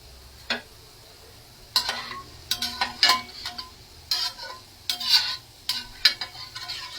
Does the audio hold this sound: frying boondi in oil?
yes